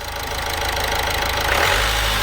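An Opel Insignia B 1.6 turbo diesel engine idles loudly nearby with a knocking rumble, then revs up toward the end, after an intercooler outlet hose repair.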